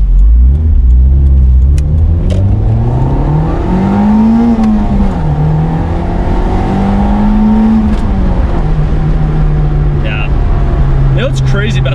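A 1991 Nissan Pulsar GTi-R hatchback with a turbo engine is heard while driving, its engine note rising and falling through gear changes as loud cabin rumble, with people talking over it.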